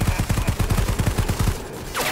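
Rapid bursts of gunfire in Predator: Hunting Grounds, a fast regular string of loud, close shots for about a second and a half, then a short lull before a fainter swishing sound.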